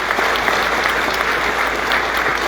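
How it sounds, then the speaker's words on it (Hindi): Audience applause at a university convocation ceremony: dense, steady clapping from a large crowd, loud and sustained throughout with no pauses. "जोर से ताली बजाइए उन आत्माओं के लिए जिन्होंने ये कर दिखाया है"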